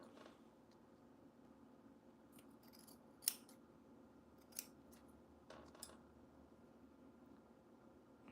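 Scissors snip through red headband fabric in a few distinct, faint cuts spaced a second or so apart. A low, steady room hum runs underneath.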